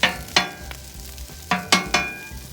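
A spatula scrapes and pushes fried rice across a hot teppanyaki griddle in about six sharp, separate strokes over a soft background sizzle.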